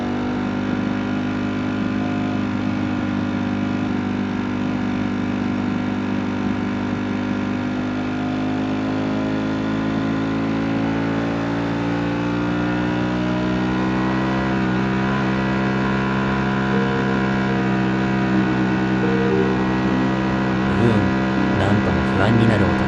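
A Ducati Panigale V4 S held in first gear at about 8000 rpm on an 80 km/h highway drones close and loud with a strained, steady engine whine. The pitch drifts slowly up and down as the revs shift.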